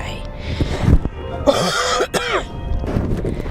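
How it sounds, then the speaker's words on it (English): A person coughs and clears their throat a few times, harsh and close, with brief bits of talking in between. "the last nagging cough. It just needs to go away."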